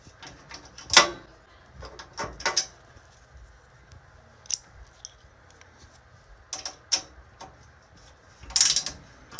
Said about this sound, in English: This little ratchet tool comes into play.